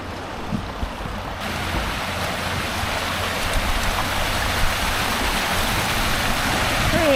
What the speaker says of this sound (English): Oh, and you can hear the creek too.